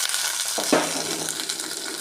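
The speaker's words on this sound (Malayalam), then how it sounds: "ഈ സമയം നമുക്ക് അരിഞ്ഞു വെച്ച ഇരുമ്പൻ പൊടിയും പച്ചമുളകും കൂടെ ഇട്ട് കൊടുക്കാം." Chopped bilimbi and green chillies drop into a pan of frying mustard seeds, set off by a sudden splash, then a steady loud hiss of sizzling oil up close, alone.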